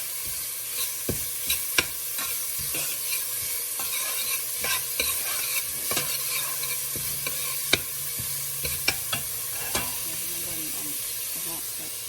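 Squirrel meat stir-fries in a hot pan, a continuous loud sizzle broken by scraping strokes of the spatula and occasional clinks, with no voices.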